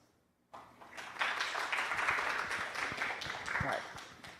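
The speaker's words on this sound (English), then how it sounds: "please give a round of applause for Professor Jana" An audience at a university colloquium on data science bursts into applause after a brief hush. The clapping stays broad and steady for several seconds and then starts to fade.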